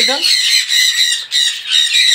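Caged birds squawk at a bird farm where colony cages are being built. The harsh, shrill calls come close and loud, repeating one after another in a fast steady series.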